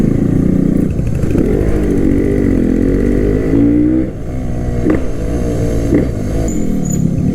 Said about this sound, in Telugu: సమురాయ్ ఫైరింగ్, ఇది సుజుకి ఇంజిన్ 2 స్ట్రోక్ ఫైరింగే డిఫరెంట్